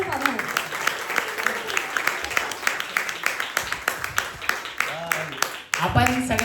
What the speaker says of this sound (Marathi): आपण सगळ्यांसाठी टाळ्या वाजवल्या,